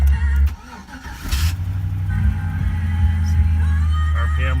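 A Chevy Silverado truck engine cranks and catches, then settles into a steady idle, close and fairly loud.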